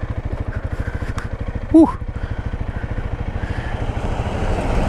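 Honda CRF300L dual-sport motorcycle engine pulsing steadily while riding on backcountry dirt roads in the southwest Utah desert, close and loud with a fast even throb that builds slightly, and one short exhaled sound from the rider partway through.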